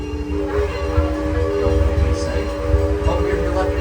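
Amusement park train at Six Flags Over Texas rolling along its track, a steady low rumble with tonal horn-like hum, heard under continuous talking from a person aboard.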